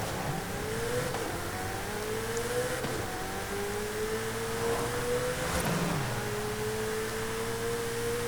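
A Ferrari's engine in Forza Horizon 5 revs steadily with rising and falling pitch through gear changes, a continuous loud in-game drone with no talking.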